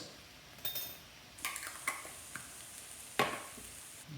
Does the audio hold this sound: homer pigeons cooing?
no